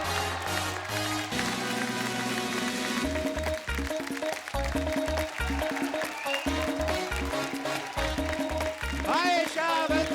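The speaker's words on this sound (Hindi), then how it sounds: "आप सबकी जोरदार तालियों के बीच में बुलाना चाहूंगा" Studio audience on a Hindi comedy talk show applauding to welcome a guest, clapping mixed with a loud rhythmic music beat and bright musical flourishes.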